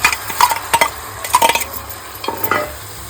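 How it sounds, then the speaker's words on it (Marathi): Jackfruit seeds and washed dried shrimp cooking in a pan as a Konkan-style curry are stirred with a utensil: repeated clinking, scraping strokes in irregular bursts over a soft sizzle, close up and without speech. "व्यवस्थित सर्व मिक्स करून घेतोय."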